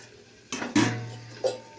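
A lid set onto a cooking pot of okra on the stove, two or three close metallic clanks and a brief rattle in a quiet kitchen.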